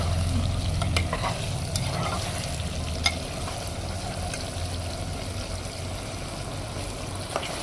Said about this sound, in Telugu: చికెన్ మొత్తం ఒకసారి కలుపుదాం